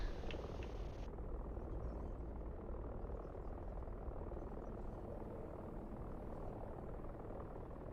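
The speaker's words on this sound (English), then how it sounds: "Can hear the aircraft, just can't quite see it." Aircraft droning overhead in a multiplayer holiday-themed military game, a steady low rumbling engine hum that stays constant and moderately loud throughout with no talking.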